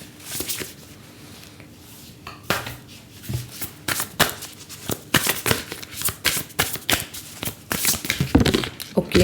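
Cards are shuffled close up in repeated bursts of quick riffling flutters and soft slaps, growing busier and louder toward the end, with no one talking.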